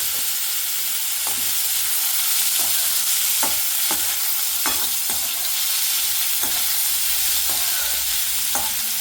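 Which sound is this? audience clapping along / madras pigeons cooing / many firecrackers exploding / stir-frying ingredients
stir-frying ingredients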